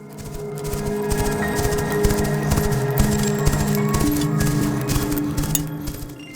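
A pony's hooves gallop through a forest in a storm, a rapid, steady clip-clop of close strikes set over a sustained musical drone.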